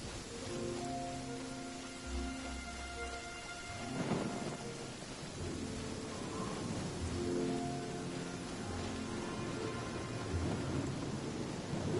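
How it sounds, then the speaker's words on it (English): Deep rolling thunder rumbles around a storm barrier in the Genshin Impact video game, layered over a steady wash of rain that runs continuously, with heavier booms surging a few times. "It's a storm barrier."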